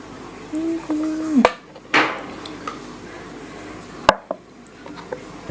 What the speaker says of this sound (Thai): นี่ตำมะเขือเทศค่ะเพื่อน